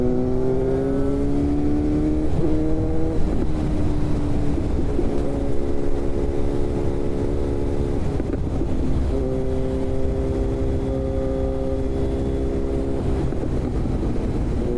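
A car with a 4-cylinder engine runs with a steady low drone and tonal whine that shifts pitch a few times as it moves, with wind rushing past the microphone.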